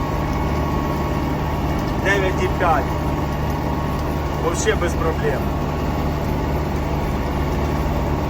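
An MTZ tractor engine idles in a field during plowing with a steady low drone throughout while someone talks briefly over it.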